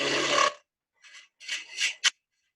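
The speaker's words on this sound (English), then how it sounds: "And then fine detail back to the spindle gouge." A spindle gouge cuts fine detail on wood turning on a lathe, heard as a loud scraping rasp followed by several short, separate shaving cuts, each a brief hiss, the last one sharp and quick.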